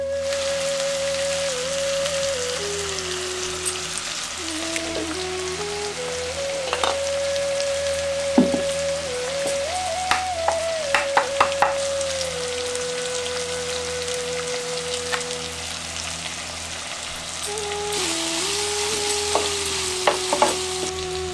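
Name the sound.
onions frying with salt in a pan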